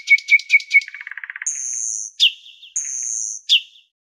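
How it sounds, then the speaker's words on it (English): A nightingale sings alone and close by: a rapid run of repeated chirps, a fast trill, then two long clear whistles, each ending in a sharp downward note. "Nightingale."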